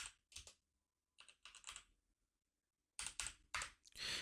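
Short bursts of keyboard typing on a computer, clustered key presses separated by silent gaps, fairly close and clear with no voices.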